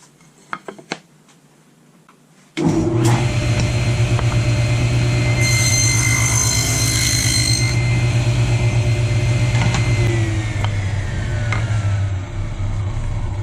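A table saw spins up and its blade rips through a thin wood strip for a setup-strip thickness cut, a loud steady whine with a low hum running about ten seconds after a quiet start.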